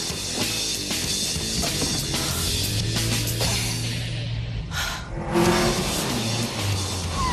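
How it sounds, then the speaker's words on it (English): A car skids and swerves through a cone driving course, engine roaring loudly with tires squealing and scrubbing throughout, the pitch dipping briefly before revving again. "On her third attempt, she skids and swerves, but Hit a cone."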